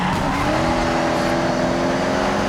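A Toyota Prius braking on a street build in Forza Horizon, a loud steady engine drone with rising tire squeal and skid, continuous and close, no voices.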